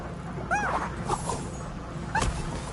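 A dog in the Epic Mickey video game gives a few short yips and whimpering barks in about three separate bursts over quiet game ambience, with no talking.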